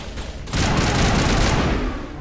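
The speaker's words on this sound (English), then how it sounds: "I was wondering where that gunfire was coming from." A rapid burst of video game gunfire in Mass Effect crackles loudly and continuously after a brief quieter start, dense and close, with no talking.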